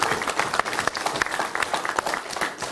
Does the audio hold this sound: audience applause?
yes